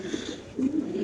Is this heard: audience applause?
no